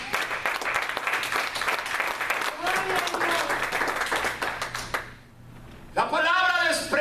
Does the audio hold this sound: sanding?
no